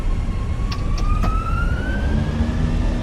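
Airbus A320 jet engines in a flight simulator spooling up to TOGA takeoff power: a loud steady roar with a rising whine climbing in pitch, and a few faint clicks early on.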